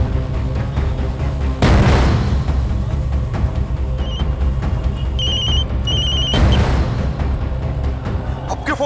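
A telephone rings in a Hindi crime drama, short repeated electronic bursts partway through, heard over loud dramatic music and heavy booming hits.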